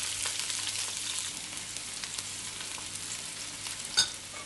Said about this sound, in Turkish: biraz kavuralım. Çok fazla böyle kızartmayacağız.